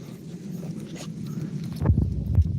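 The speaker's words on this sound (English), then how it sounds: "Come here, beefy dog." A pet dog moving about close by, with soft whimpering and scuffling paw sounds, a couple of louder thumps near the end, and no talking.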